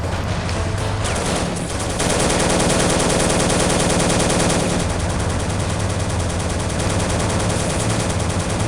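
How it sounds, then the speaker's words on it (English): A stationary machine gun fires in the World War 2 game Soldiers: Heroes of World War 2, a loud continuous rattling burst of rapid shots that runs nearly unbroken through the clip, close and dense. "That stationary MG is firing at us"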